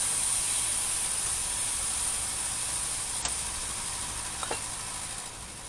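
Soy sauce sizzling in a hot pan with Jerusalem artichokes: a loud, steady hiss that fades slightly over several seconds, with a couple of faint utensil ticks and no talking.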